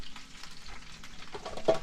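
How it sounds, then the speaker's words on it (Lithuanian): Potatoes with salt frying in a pan aboard a yacht moored off Svalbard, a soft continuous sizzle with light crackles, heard alone. "kepa bulvytę su druskyte"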